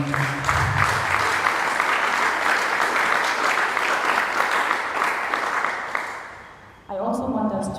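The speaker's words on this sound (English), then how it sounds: "I think this deserves a very big applause to all of you" Sustained applause from an audience at a Catholic schools awards event, loud and even for several seconds before fading, then a voice speaks briefly at the end.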